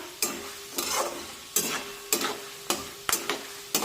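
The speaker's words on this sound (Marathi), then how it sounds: "हे सर्व जिन्नस मी छानपैकी परतून घेते" Murmura chivda ingredients stir-fried in hot oil in a pan, with a sizzle under repeated scraping stirs from a spatula in an uneven rhythm, close and fairly quiet, with no talk.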